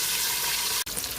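Fish frying in a covered pan gives off a loud, steady broadband sizzle and crackle that runs almost unbroken, cut by one very brief dropout near the end, with no talking.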